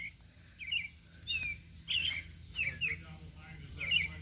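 Small bird chirping outdoors in a garden, short high tweets repeating every half second or so over a steady low hum, moderately near and fairly quiet.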